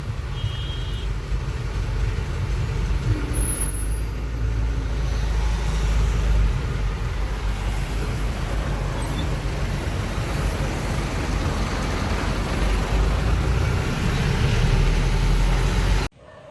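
Continuous road traffic noise at a toll gate on the way into Mumbai, with a low engine drone and idling vehicles, a steady dense hum with no talking.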